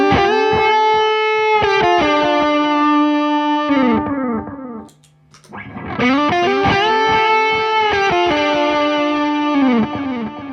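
Electric guitar licks played through a Seymour Duncan Vapor Trail analog delay pedal, loud and distorted, with sustained notes trailing into repeating echoes, a short near-silent break midway, then another run of phrases with the same smeared repeats.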